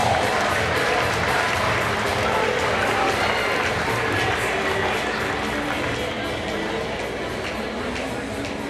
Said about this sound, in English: let's give yourselves a great round of applause